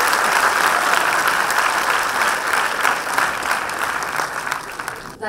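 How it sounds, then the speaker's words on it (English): Audience applause at a student debate in Pune honoring the best speaker, loud and sustained dense clapping from a crowd lasting about five seconds before cutting off abruptly. "So a round of applause for her."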